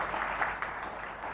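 Audience applause rising after a speech closing on one earth, one family, one future, a steady wash of clapping hands with no voices over it.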